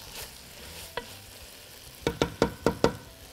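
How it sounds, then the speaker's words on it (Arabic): Green broad beans and dill are stirred in a hot pan with onion, and a spoon scrapes five quick, close strokes through the sizzling frying, after a single earlier scrape. "وكمان رح أحط الشبت وأقلبهم قبل ما أضيف البرغل"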